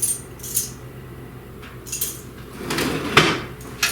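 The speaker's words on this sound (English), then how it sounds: "Let me get my teaspoon." Metal cutlery clinks and rattles as a teaspoon is fished out in a home kitchen while baking cookies: a few light taps, then a louder jangle of utensils with a sharp clack near the end.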